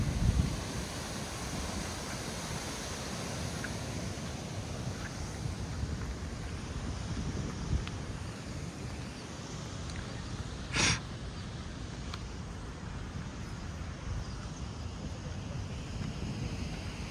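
A mountain water stream at Transfagarasan, a steady broad rushing that fills the whole clip, loud and close, with a brief sharp knock partway through.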